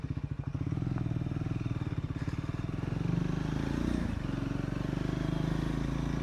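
A Triumph Scrambler 400X motorcycle rides a light off-road section, its single-cylinder engine a steady, loud, close throb with a pulsing rhythm that rises slightly midway, plus some clatter from the rough ground.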